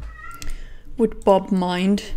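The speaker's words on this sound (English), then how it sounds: "I have put cats behind the door. So if you hear meowing" Cats shut behind a door give a couple of drawn-out, plaintive meows, fairly close and clear, following a brief bit of talking.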